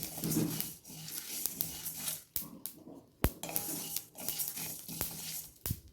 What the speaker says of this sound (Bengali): মশলাটা বেশি ভাজবো না হালকা করেই ভেজে নেব